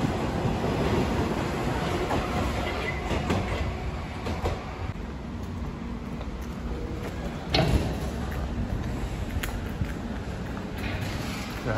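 A Moscow metro train runs on outdoor tracks between stations, giving a steady loud rumble and roar with periodic rail clacks and a brief louder jolt near the middle, heard from inside the carriage.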